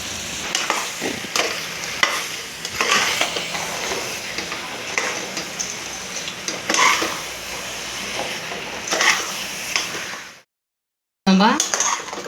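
Mutton frying and being stirred in a pan for a mutton kurma with broad beans, a steady close sizzle with scraping and clinks of a utensil against the pan, cut off by a brief silence near the end.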